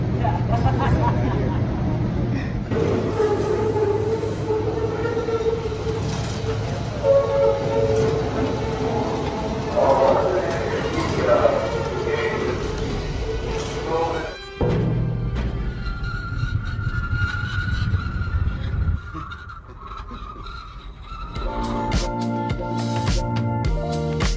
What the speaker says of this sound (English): We've got these little trains on both sides that are tied onto the ship with ropes.